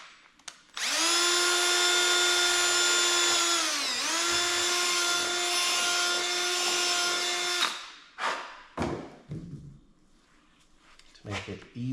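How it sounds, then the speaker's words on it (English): A power drill whines at a steady pitch for several seconds while boring a hole in wood, dips briefly, then continues before stopping, followed by scattered knocks and handling sounds. "I'm going to drill a hole in the center."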